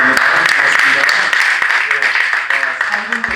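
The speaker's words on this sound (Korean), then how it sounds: "박수 해주시기 바랍니다" Audience applause at a church theology hearing, a loud burst of clapping with a voice speaking over it.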